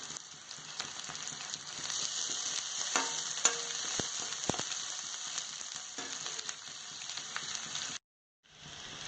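Onion, ginger and garlic sautéing in a pan for fried rice, a steady crackling sizzle with scattered spatula scrapes and stirring clatter, moderately quiet, dropping out briefly near the end.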